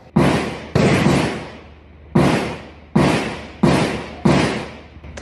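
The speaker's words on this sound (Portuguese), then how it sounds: "Tantos tiros" Gunshots ring out during a police operation in a favela, five or six loud, sharp bangs with long reverberating tails, spaced irregularly about a second apart.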